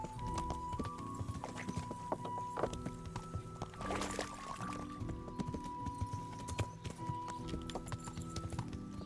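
Horse hooves clip-clop steadily at a walking pace in the video game Kingdom Come Deliverance, a continuous run of fairly quiet, close hoofbeats with no talking.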